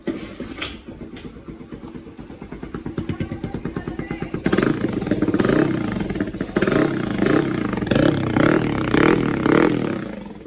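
A motorcycle engine with a newly fitted silencer exhaust runs close by, its pulsing idle building into louder, throatier revving blips, with faint voices in the background.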